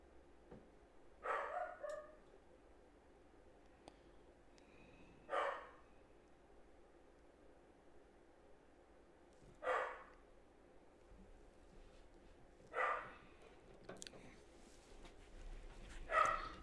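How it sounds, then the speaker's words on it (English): A dog barks and whimpers in short bursts, four separate outbursts spaced several seconds apart, moderately loud over a quiet room background with no talking. "What is wrong with that doggy?"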